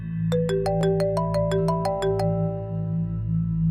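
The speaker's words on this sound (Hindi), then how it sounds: "दादा जान का फोन आ रहा है।" A phone ringtone plays a quick run of bright electronic notes, about a dozen chimes stepping through a short melody over a low steady hum.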